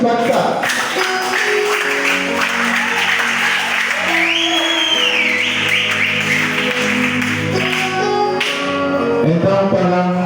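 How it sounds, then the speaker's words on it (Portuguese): Church congregation clapping along during worship, steady rhythmic palm claps under loud singing and amplified voices, dense and close throughout. "Aumenta as palmas para a glória do nosso Senhor."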